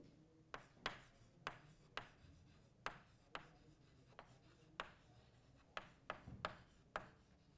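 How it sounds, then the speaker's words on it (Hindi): A pen writes on a surface in short scratching strokes, about a dozen quick, close, quiet bursts at an uneven rhythm during a physics lesson, with no talking. "मैं यहां पे लिख देता हूं"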